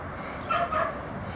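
A dog gives a couple of short yipping barks with a whimpering edge, close by and moderately loud over a quiet indoor background.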